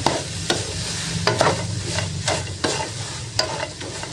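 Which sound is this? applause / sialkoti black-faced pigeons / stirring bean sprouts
stirring bean sprouts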